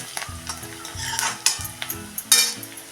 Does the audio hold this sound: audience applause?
no